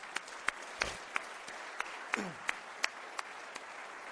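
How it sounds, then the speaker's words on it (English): An audience at a college event claps for award winners, a steady, moderately distant patter of many hands with a few sharp individual claps standing out. "So please help me applaud all three of our award winners."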